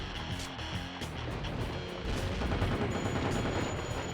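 Gunfire in the PS2 game Underworld: The Eternal War comes as rough bursts of shots over a continuous noisy rumble, moderately loud.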